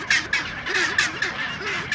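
Penguins in Antarctica give loud, harsh, braying squawks in a rapid repeated series, close by and continuous with no talking.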